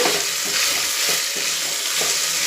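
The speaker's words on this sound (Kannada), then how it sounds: "ಇದನ್ನು ಎಣ್ಣೆಯಲ್ಲಿ ಚೆನ್ನಾಗಿ ಹುರ್ಕೋಬೇಕು" Drumstick leaves fry in hot oil for pulao, a loud continuous sizzle broken by several soft scraping stirs of a spoon in the pan, close and alone without talk.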